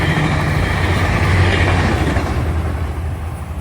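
A train passes close by on an adjacent track, a loud continuous low rumble with rolling mechanical roar that holds steady and then slowly eases off.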